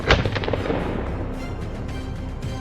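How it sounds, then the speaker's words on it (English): A single sharp gunshot cracks out during a wild boar hunt on farmland, loud and close, followed by a rumbling echo that fades over a couple of seconds with no other sound. "The gunshot broke the silence."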